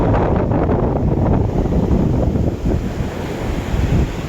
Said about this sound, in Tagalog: Tapos ayun yung dagat oh.